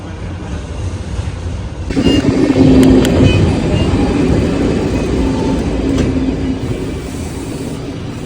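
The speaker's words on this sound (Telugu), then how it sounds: "కుర్ నుంచి జురిక్ వైపు వెళ్ళే ట్రైన్ ఇది." A train running from Chur toward Zurich rumbles along at close range, a steady loud roll of wheels on track with faint clicks and squeals above it.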